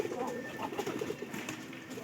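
Pigeons coo softly at close range in a loft, a brief run of low, throaty calls.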